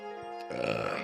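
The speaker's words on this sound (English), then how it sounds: "That's an orange Fago burp if I've ever had one." A single burp comes after a drink of orange Faygo soda. It is short, close and fairly quiet, with no talk around it.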